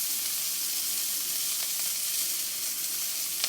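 Hosta buds and flowers fry in a pan and get turned, giving a steady close sizzle with a few faint scraping clicks from the stirring.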